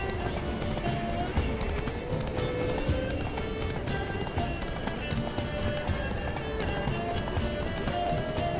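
A horse gallops in The Witcher 3: Wild Hunt, with fast rhythmic hoofbeats that stay loud and close throughout, layered with snorts and whinnies over a dense game soundtrack, and no clear talk.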